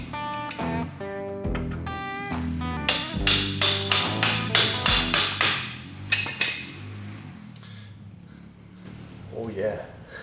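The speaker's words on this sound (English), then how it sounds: "Put my hammer out." Hammer blows ring against metal parts of a Polaris Sportsman 500 ATV's front suspension, a quick run of about a dozen sharp, close, clanging strikes in steady rhythm, with a voice speaking at the start.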